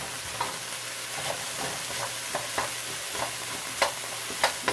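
Carrots stirred into a pan of vegetables being water-fried without oil, with a steady sizzle and occasional sharp scraping and clinking of the utensil against the pan.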